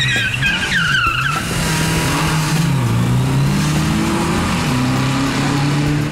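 A motorbike with a sidecar carrying a remote camera head roars loudly and steadily, its engine pitch climbing and falling, with a brief squealing whine early on.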